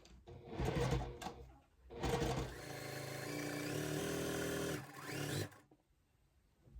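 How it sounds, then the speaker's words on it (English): A sewing machine stitches a scrappy quilt block in two short bursts, then a long steady whirring run and a final brief burst, close and loud with no speech. "And now we're just gonna sew this block up row by row."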